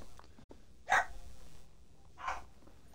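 Dogs in the Blair Witch video game bark twice, a short sharp bark and then a softer one about a second and a half later, moderately loud over a quiet background.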